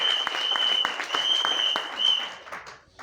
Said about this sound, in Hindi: यहां पर तालियां चाहूंगा सिम सर के लिए